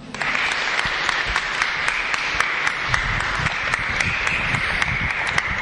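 An audience applauds warmly at an Italian gathering, a full, steady roll of many hands clapping with occasional sharper individual claps standing out, continuous and fairly close throughout, without speech on top.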